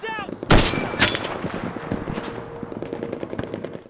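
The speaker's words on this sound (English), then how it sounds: "Another noteworthy gun issued to soldiers is the Browning Automatic Rifle, or BAR." A Browning Automatic Rifle, the World War II squad light machine gun, fires two loud, sharp reports close by, followed by a quicker string of fainter automatic shots.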